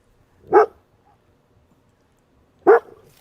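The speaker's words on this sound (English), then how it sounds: "her dogs are barking now" A dog barks twice, about two seconds apart: two sharp, fairly close barks with quiet in between.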